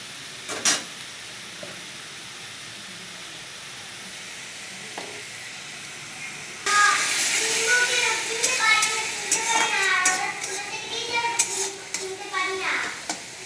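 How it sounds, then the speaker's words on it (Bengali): Onions sauté in a pan for an ilish fish curry with small eggplant: after quiet kitchen background, a loud, close sizzle bursts in and continues steadily with scraping stirs and occasional clinks of the pan. "এবার পেঁয়াজটার কাঁচা গন্ধ ছাড়া অবধি আমি কষিয়ে বের নেব।"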